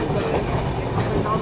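A Sampark Kranti passenger train runs on the tracks with a loud, close, continuous rumble and rhythmic clatter of wheels, as if heard from on board.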